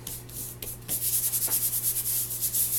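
A napkin being rubbed firmly onto an art journal page, giving close, steady scratchy strokes in a quick repeating rhythm after a few lighter touches at the start.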